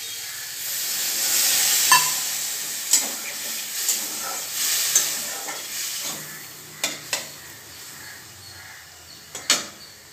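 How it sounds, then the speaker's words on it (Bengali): Cumin and chilli stirred in a hot pan give a steady sizzling hiss, punctuated by several sharp spatula knocks against the pan, with a louder burst of steam and spattering as water is added. "জিরেটা একটু নেড়ে জল দিয়ে দেবো"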